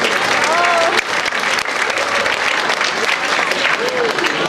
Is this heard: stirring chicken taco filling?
no